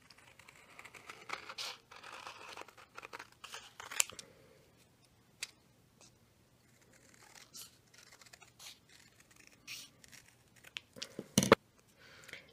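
Scissors snip through faux suede fabric for earrings with quiet, close, irregular cuts and soft rustles of material, ending in a louder crisp snip. No one speaks.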